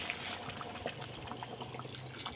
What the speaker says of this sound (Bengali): এখন আমি গরম জলটা ঢেলে দেবো